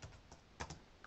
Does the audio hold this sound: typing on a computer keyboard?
yes